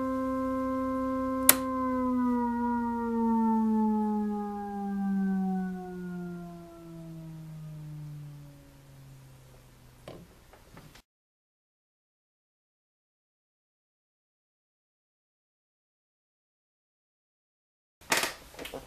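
A Hammond RT-2 console organ's tone wheel generator winds down after being switched off, a sustained organ tone sliding steadily lower and fading over about ten seconds before silence, then a brief click.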